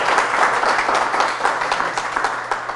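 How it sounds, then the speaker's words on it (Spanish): Applause from a church congregation, a dense steady patter of many hands clapping throughout, fairly loud and with no talk over it. "Un fuerte aplauso al Señor por la vida de este grande hombre"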